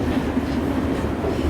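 A Russian freight train rolls past at a border rail crossing, a steady, loud, continuous low rumble with no break.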